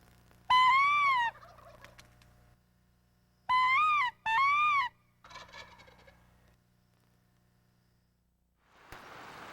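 Wild turkey gobblers call in loud, rattling gobbles, one burst followed by a pair in quick succession and a weaker trailing call, then quiet with a short rush of noise at the end.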